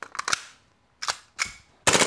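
A small airsoft pistol with a full metal slide fires on full auto in sharp, snappy bursts: a quick rattle of three shots, a pause, two single cracks, then a louder final burst, all close and dry.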